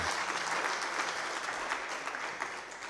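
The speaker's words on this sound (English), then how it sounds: "Another round of applause, please, ladies and gentlemen." Sustained, dense applause from a lecture audience fills the clip evenly at a strong level, tapering slightly toward the end.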